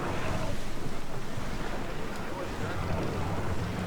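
A sailing ship cuts through sea waves in the video game Assassin's Creed Odyssey, giving a loud, continuous wash of water and wind that holds steady throughout.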